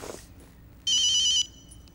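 A telephone rings once, a short bright electronic trill lasting about half a second after a quiet room, then silence.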